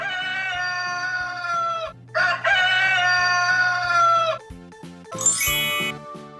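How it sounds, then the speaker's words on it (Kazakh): A rooster crows loudly and close by, giving two long drawn-out calls one after the other, then a few shorter clucking bursts. "cock"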